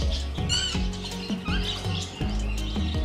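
An Alexandrine parakeet at Dehradun Zoo lets out several sharp, raspy squawks in quick succession, mixed with soft fluttering and pattering sounds nearby.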